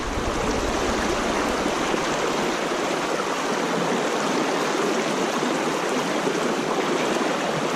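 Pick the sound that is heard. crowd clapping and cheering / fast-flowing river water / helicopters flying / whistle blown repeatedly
fast-flowing river water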